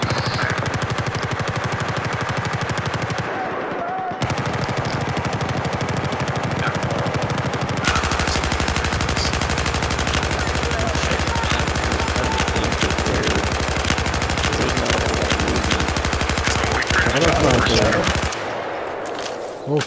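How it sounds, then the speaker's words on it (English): Sustained automatic gunfire in a video game, dense and loud, with rapid bursts and heavy fire layered together and a brief gap near the start. "They're gonna see a lot of fire."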